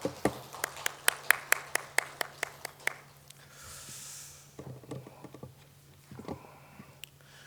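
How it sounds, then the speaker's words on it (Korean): Church congregation at a Sunday worship service claps in a quiet, sparse patter of separate hand claps that fades out, followed by soft rustling and faint movement. "우리 다시 한번 영광의 박수 크게 올립시다."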